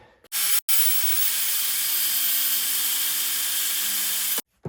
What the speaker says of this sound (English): I'm going to try this new steel cutting blade.